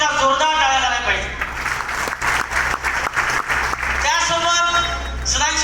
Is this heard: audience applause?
yes